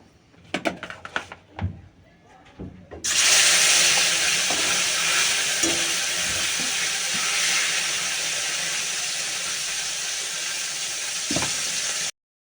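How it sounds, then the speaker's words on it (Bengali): Fish and onion frying in a wok: after a few light clatters, a loud, steady sizzle bursts in and holds without a break until the end. "চলো মাছটা ভেজে নিই"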